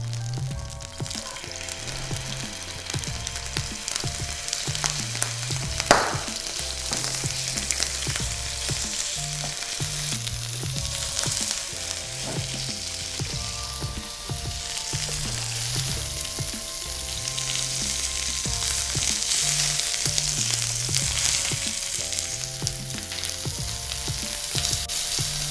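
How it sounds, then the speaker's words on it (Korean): Meat sears in a pan until browned, giving a continuous dense sizzle and crackle with steady loudness. A background melody plays softly underneath, and there is an occasional clink partway through. "그래서 고기를 지지실 때는 뭐 완전히 익히는 게 아니고 갈색만 모양이 표면에 나오게끔"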